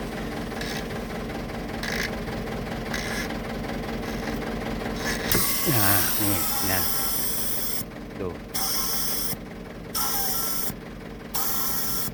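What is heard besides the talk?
charcoal blower suction running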